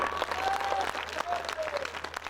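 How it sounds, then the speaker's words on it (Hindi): Audience applause at a mushaira held on a Ramlila stage, a short burst of dense, continuous clapping with a faint tonal whine running through it. "तालियां कमजोर हैं।"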